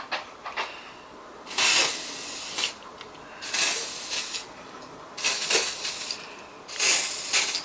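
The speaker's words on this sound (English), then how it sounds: "So you need WD-40, which Dan's got. Get in the bores," WD-40 aerosol sprayed into the cylinder bores of a BMW M50B30 engine during a rebuild, four short hissing bursts separated by pauses, close and alone.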